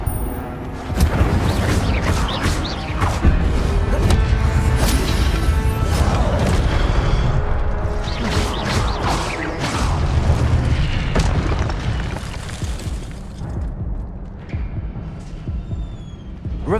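Incendio fire spell cast in the Hogwarts Legacy video game, a loud rumbling, booming burst of magical flame with layered whooshes and crackles that swells, holds steady and slowly fades out.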